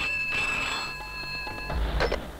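A telephone rings with a sustained electronic trill that fades out, followed by a brief rustle and handling noise as it is picked up, in a tense film scene.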